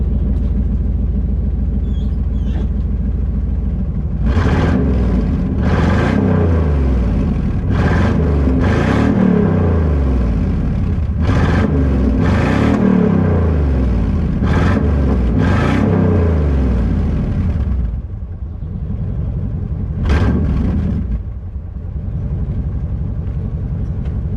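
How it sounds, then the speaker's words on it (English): A Chevy Tahoe with a small block 350 V8 rumbles loudly up close, its exhaust note swelling through a series of sharp revs before dropping back to a deep, steady idle. "I gotta give you some exhaust note first"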